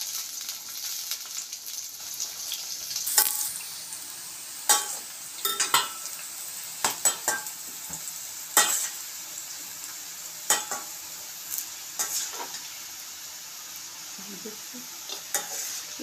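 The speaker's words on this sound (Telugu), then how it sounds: "కొంచెం కొంచెం వేసుకొని ఫ్రై చేసుకొని అవన్నీ పక్కన పెట్టేసుకోవాలి ముక్కలన్నీ" Bitter gourd pieces fry in a pan with a steady sizzle, as curry preparation moves along. Frequent close scrapes and clinks of stirring cut through the sizzle.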